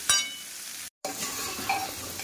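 Soybean chunks sizzle and crackle in a hot pan with some stirring, a steady frying hiss broken by a brief silent gap, close and alone.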